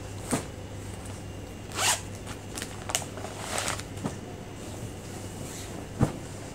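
The zipper on the packaging of a women's suit is pulled open in several short, sharp rasps spread across a few seconds, close by, over a faint steady hum in a quiet room.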